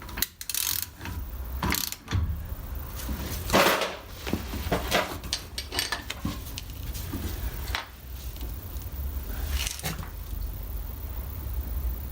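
A ratchet tightens the final bolt over a new lock tab washer on the front brake disc of a Rover P5B, clicking in short, irregular bursts close up, with no talking.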